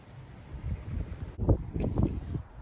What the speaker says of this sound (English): And it's wet and windy.